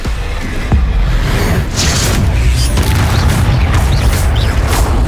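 Loud Confringo spell blasts in Hogwarts Legacy during a fight with a troll: a heavy booming impact early on, followed by crackling bursts and rumbling debris, with no voices.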